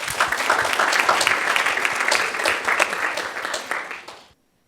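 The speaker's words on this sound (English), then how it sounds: "Let's give a round of applause." An audience at an internship innovation showcase claps in a dense, sustained burst of applause that fades out after about four seconds.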